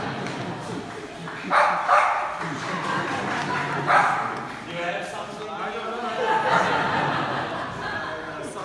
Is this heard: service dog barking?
yes